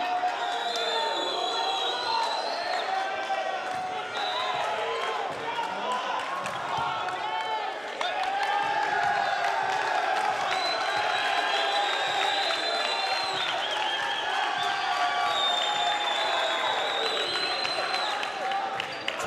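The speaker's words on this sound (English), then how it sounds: "Crowd is letting us have it." Loud arena crowd cheering and roaring continuously through a tied late-set moment of a men's AAC tournament volleyball match between St. Thomas University and Warner University, with a commentator's voice running underneath.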